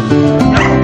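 Several rescued dogs brought home from Kuwait bark and yip in a quick, close burst lasting under a second, with a whimpering edge to the calls and no talk.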